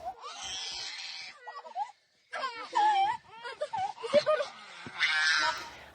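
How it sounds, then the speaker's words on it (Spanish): Children wail and scream in distress after gunshots fired close by, during a news report from Piedecuesta, Santander, Colombia; the cries rise and break repeatedly over about six seconds, close and loud, with overlapping sobbing voices. "Ahí se escuchan los llantos y gritos de los niños, quienes quedan impresionados por las detonaciones que estaban muy cerca de ellos."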